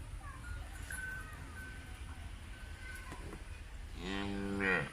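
A Friesian cross cow in Pakistan gives a single loud, drawn-out moo near the end, rising over steady outdoor background noise.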